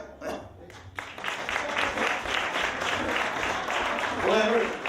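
Audience applause at a live comedy show in Quebec, a steady broadband clatter of clapping building after a brief pause and holding loud to the end, with voices calling out over it.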